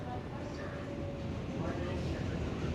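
A 7 subway train runs across Queens, New York City, giving a steady low rumble and rattle of wheels on track that swells slightly toward the end. A faint whine sits above it, and there is no clear talking.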